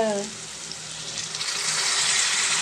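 Dried shrimp frying in a pan with onions, garlic and cumin for a village-style drumstick, egg and dried shrimp curry, giving a steady close sizzle with a brief voice at the start.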